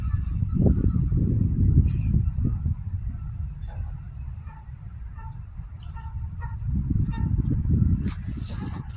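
Geese honking outdoors in a park, loud repeated calls clustered at the start and again near the end, with other bird sounds and background noise throughout.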